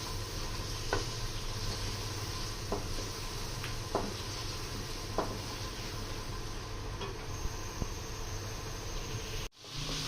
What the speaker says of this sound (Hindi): अब मसाले के साथ अच्छी तरह हमने बुनाई की है आलूओं की